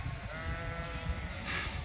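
Sheep bleat as dogs move the flock into a new paddock; a few wavering bleats carry over a low, rumbling outdoor background, fairly faint and with no one talking.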